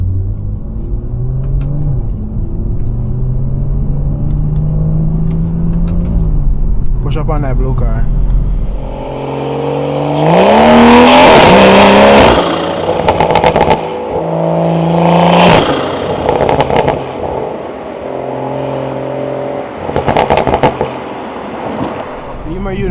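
A Stage 2 BMW 340i with a B58 engine revs hard on the road, rising in loud swelling pulls and dropping back between bursts, close and aggressive, while people talk over the engine throughout.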